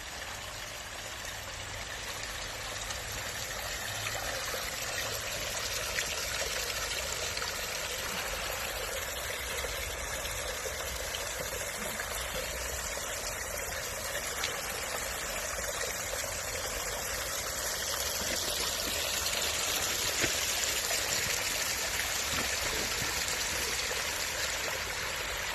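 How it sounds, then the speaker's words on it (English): Water from a backyard hardscape patio waterfall spills steadily and continuously at close range, a broad, even rushing wash with no voices over it. "I'm gonna be quiet for a little bit so you can hear the noise of the waterfall."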